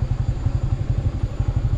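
A motorcycle engine idling close by, with a loud, steady low rumble of rapid regular pulses near the road to Kote Abbe Falls in Coorg.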